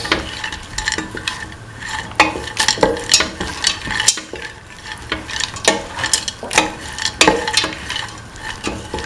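Kidney beans tipped into a hot pan and stirred, with repeated scraping strokes of a spoon against the pan over a soft sizzle, loud and close in an uneven rhythm.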